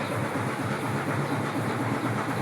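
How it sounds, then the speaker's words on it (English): An antique 1940s Blackstone engine runs at a coffee factory, giving off a steady, loud mechanical drone with a dense rhythmic chugging throughout. "Look, antique World War I machine, Blackstone"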